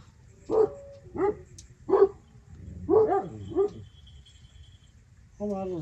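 Small dogs bark at night in a run of sharp, close barks and yips, about six bursts in irregular rhythm, ending in a longer whining bark, with a faint voice in the background.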